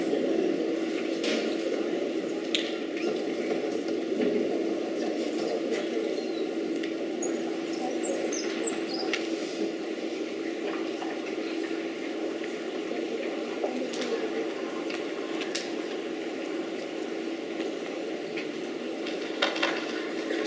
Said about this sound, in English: Do you hear that static?